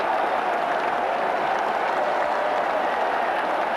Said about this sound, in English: the crowd again has gone mad